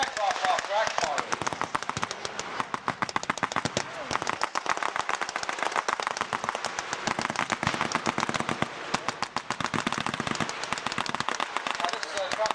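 German 88 anti-aircraft gun firing at a battle reenactment, heard as a dense, relentless crackle of rapid blank reports and bangs with a distant, outdoor feel, continuous for the whole stretch.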